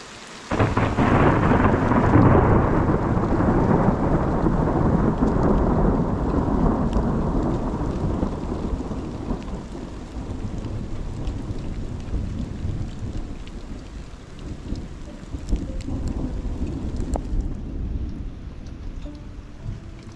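Thunderstorm in open mountain country near a ranch shop, with a loud rolling rumble of thunder at the start that fades slowly into steady heavy rain hiss lasting throughout, with no talking.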